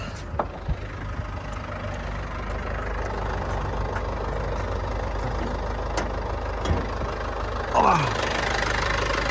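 A 2020 Mercedes Vito 119 van engine idles steadily with a low, even rumble throughout, with a few faint clicks and a brief squeak near the end.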